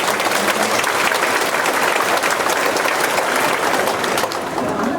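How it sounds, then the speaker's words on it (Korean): A church congregation at a summer retreat at Saeeden Church bursts into dense, loud, continuous applause that holds steady for several seconds and dips slightly near the end. "모두 영광의 박수 한번 칩시다."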